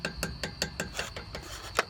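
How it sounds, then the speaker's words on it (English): A hammer taps a stuck rear brake caliper pin on a 2007 Audi Q7, about nine sharp metallic strikes in a steady quick rhythm, close and alone. "I came in with the hammer and I started tapping it."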